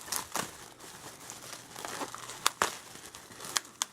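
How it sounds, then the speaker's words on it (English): A mail-call package being unwrapped, with quiet crinkling plastic and sharp crackles and tearing bursts near the end; no talking. "you can hear here I'm unwrapping another one"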